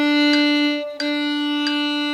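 A violin holds one sustained bowed pitch for about two seconds as two tied quarter notes, with a steady bright harmonic tone, slight bow-change swells and no talking.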